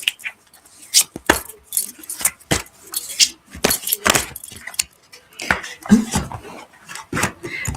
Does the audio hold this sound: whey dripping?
no